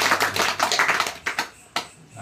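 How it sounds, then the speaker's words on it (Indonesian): A church congregation claps in a short burst of scattered, uneven hand claps that quickly thin out to a few last isolated claps, fairly close and clear. "tepuk tangan dong"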